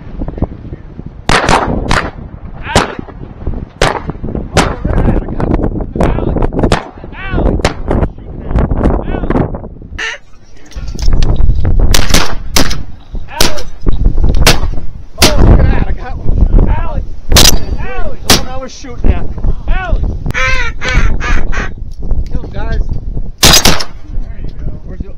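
Shotgun blasts during a Nebraska waterfowl hunt, many sharp, loud reports fired in quick irregular volleys, some nearly overlapping, with hunters' voices between the shots.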